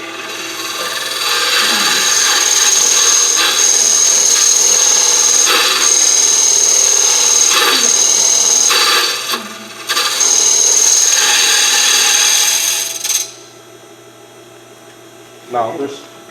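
A hollowing tool cuts into wood turning on a lathe, giving a loud, close, continuous scraping whir with brief breaks. It fades near the end to a quieter hum with one short burst of cutting.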